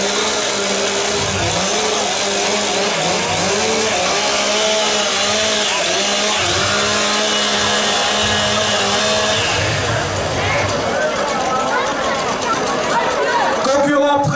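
Several Stihl chainsaws rev and roar together in a short warm-up at a Timbersports competition, loud and continuous with rising and falling engine pitch over crowd chatter and an announcer's voice.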